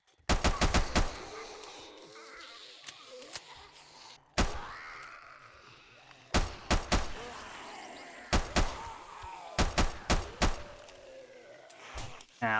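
Bursts of gunfire shooting at zombies in the video game 7 Days to Die, loud rapid volleys and single shots spread across the scene, with voices talking between the bursts.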